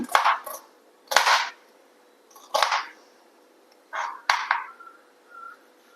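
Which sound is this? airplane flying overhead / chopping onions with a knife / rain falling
chopping onions with a knife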